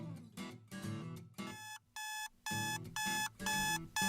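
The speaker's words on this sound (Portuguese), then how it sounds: "Maldito despertador de merda." Alarm clock ringing in a sound effect: loud, bright electronic bursts of repeated tones in quick rhythmic groups, with short gaps between them and no voices.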